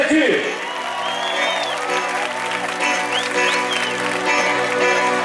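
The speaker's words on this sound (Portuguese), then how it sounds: "Eu quero que todos vocês requerem uma salva de palmas para o nosso Jesus Cristo, gente!" A crowd at a carnival bloco claps and cheers, with scattered whoops and shouts over steady applause and background music.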